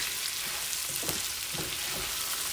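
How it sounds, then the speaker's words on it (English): Turkey sausage and potatoes frying in a pan, a steady close sizzle with soft intermittent stirring scrapes, no speech. "We're going to get these potatoes, all that goodness stirred around in here."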